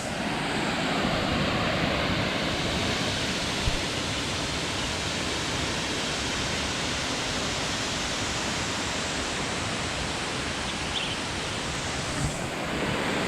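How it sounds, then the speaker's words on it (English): Several waterfalls spilling from small streams in Morocco give a steady, dense rush of falling water, broad and unbroken throughout with no voices. "you can see there's multiple waterfalls, and they seem to come out of nowhere"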